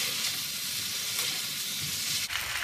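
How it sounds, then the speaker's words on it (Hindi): Chicken pieces sizzling steadily as they fry over high heat in a pan, a continuous close frying hiss with faint stirring scrapes and no talking. "चिकन हमारी गल गई है और मैं आँच तेज करके इसको भून लूंगी"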